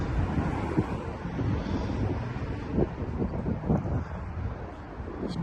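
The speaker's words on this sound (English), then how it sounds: "It's been a bit windy today." Wind buffets an outdoor microphone near St. Mirren FC's ground, a continuous rough low rumble with gusty thumps across the whole stretch and no clear voices.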